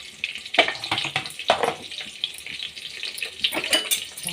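Onion and bay leaf fry in hot oil with a little turmeric, giving bursts of crackling, spattering sizzle with stirring sounds, close and fairly quiet, with no talk.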